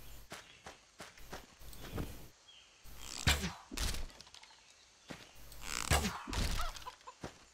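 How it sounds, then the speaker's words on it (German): Chickens cluck in the fantasy video game Divinity 2, mixed with footstep thuds and scattered game sounds, the clucks coming in short bursts amid the movement. "Bist du das Huhn von Kaspar?"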